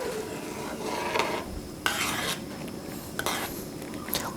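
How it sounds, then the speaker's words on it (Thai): A spoon stirs rice porridge boiling in a pot for Thai shrimp rice soup, giving intermittent scraping swishes at a steady close range, with no voices. "ก็ต้มข้าวไปครับ แล้วก็คนไปนะครับ"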